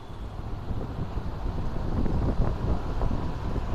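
A Luminous electric fan spins on its top speed setting, a steady breathy whoosh of rushing air that swells slightly louder partway through and holds, close to the microphone with no talking.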